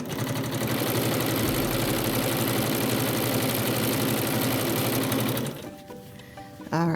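A Bernina sewing machine stitches quilt strip assemblies in a loud, continuous rapid mechanical whir for several seconds, then slows and stops briefly before starting again at the very end.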